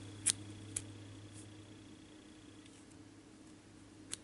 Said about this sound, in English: make little slices here with my scissors, so it turns into fringe.